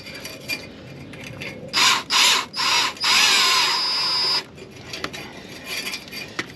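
Power drill spinning in several short whirring bursts and then one longer, higher pull while tightening a fastener on a 1987 Ford F350, close up over a quiet background with faint clicks between bursts.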